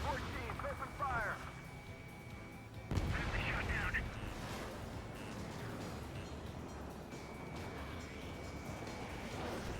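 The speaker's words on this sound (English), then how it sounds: "Now, support teams, open fire." Support teams open fire in the Ace Combat 7 video game, heavy booming artillery-like blasts and rumbling gunfire over a dense noisy battle bed, with radio chatter and a sharp impact near the start.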